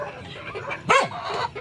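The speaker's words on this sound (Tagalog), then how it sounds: "Ingay talaga ng aso na to ba?" A dog barks once, sharp and fairly close, rising out of a steady outdoor background around a chicken nesting area, with faint lower noise before and after the single bark.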